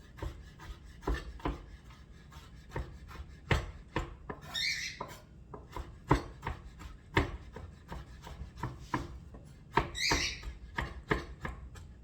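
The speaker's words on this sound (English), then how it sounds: "And you're just going to chop them up a little." Pickles being chopped with a knife on a cutting board for tartar sauce: a steady run of sharp, close taps and strikes, some quicker and some spaced, with no talking.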